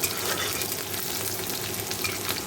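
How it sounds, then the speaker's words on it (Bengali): Panch phoron and dried red chillies sizzling in hot oil for a dal tempering, a steady, close, crackling fry with no talk. "এখানে পাঁচফোড়ন শুকনো লঙ্কা দিয়েছি যে পেঁয়াজ ডাল দেখো জাল দিয়ে রেখেছি ফোড়ন দেবো"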